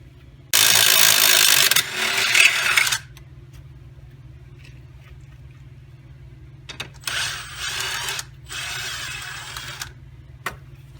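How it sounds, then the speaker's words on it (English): A socket tool turns a nut on a Ford Escape wheel knuckle during a wheel bearing replacement, giving loud close bursts of rapid mechanical whirring and clicking, separated by quiet gaps. "That's what you'll have to do, turn it with the socket."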